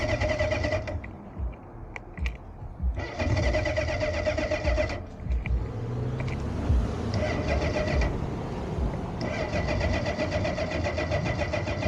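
A rebuilt Honda CB750 motorcycle engine cranks in several repeated bursts as it tries to start, each attempt a loud, close whirring churn separated by short pauses, with a low rumble between tries.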